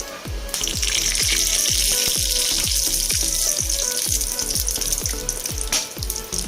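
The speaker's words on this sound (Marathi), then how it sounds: "त्या तुपामध्ये 2 लवंग, एक दालचिनीचा तुकडा आणि 2 हिरव्या वेलची थोडंसं फ्राय करून घेऊया।" Cloves, a piece of cinnamon and green cardamom fry in hot ghee with a steady, hissing sizzle, close and continuous, while a rhythmic low thumping of background music runs beneath it.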